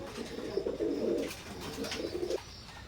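Teddy pigeons, a semi-adult pair, coo close by in low, throaty rolling calls, several phrases in a row with short pauses between them.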